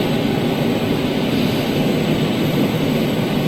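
A dedicated freighter jet at Schiphol fills the air with a constant, fairly loud engine roar, dense and even from start to finish, with no voices.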